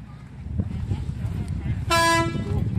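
A bus horn sounds one sustained, loud honk at a bus museum open house, rising out of crowd chatter and outdoor background noise.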